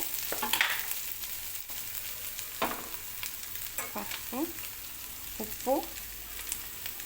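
Onions fry with turmeric for a bitter gourd curry. A soft background sizzle is punctuated by a handful of separate scraping stirs with a spatula in the pan, and no voice is heard.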